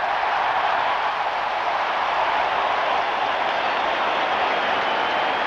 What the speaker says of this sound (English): The crowd noise affected the offense of the Titans.